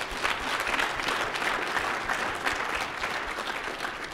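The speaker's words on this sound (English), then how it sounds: "Let's clap for Jesus." A church congregation claps together in a steady, fairly dense round of applause heard from a moderate distance, with no speech over it.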